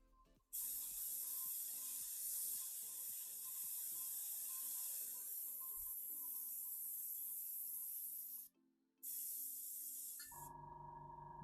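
Airbrush spraying paint onto Warhammer 40k Necron miniatures, a steady close hiss broken by brief pauses and short stops, ending with a faint mechanical hum.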